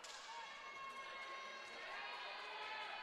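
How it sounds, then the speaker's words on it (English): Crowd at a college volleyball match cheering for the Bulldogs against Bluffton: a steady, moderately distant wash of cheers and voices in an indoor gym. "it's getting a little bit louder, I think, for the crowd here, you know, trying to get that momentum for the Bulldogs"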